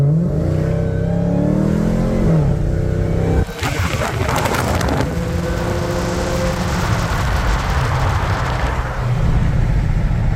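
Cadillac Escalade V engine revving hard under acceleration, a loud rising drone that climbs, breaks at a sharp shift, then roars on with roughly steady pitch, close and without talking.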